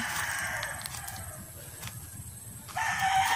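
Roosters and chickens crowing and clucking outdoors, moderately close, under a constant background hum.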